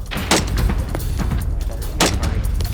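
Sharp rifle shots ring out from a shooter firing off a tripod, a few loud cracks spaced irregularly over steady background noise.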